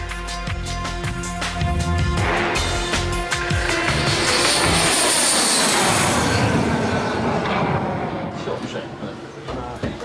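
A BAE Hawk jet trainer flies past with a loud, rising whine that swells to a broad roar. The roar peaks midway and then fades as the jet moves away, and no voices are heard.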